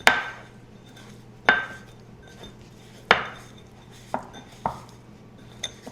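Beef tips are tossed with seasonings and au jus gravy mix in a bowl, giving several sharp clanks and clatters of utensil against dish, spaced irregularly with quiet gaps between.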